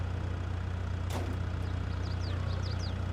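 A tractor engine in Farming Simulator 22, the Valpadana 4655, idles as a steady low drone, with a brief sweep and a few faint chirps above it.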